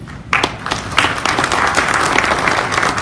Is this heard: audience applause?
yes